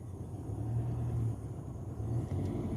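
A camper van driving on a road, a steady low engine and tyre rumble close by with a slight swell and dip, no voices over it.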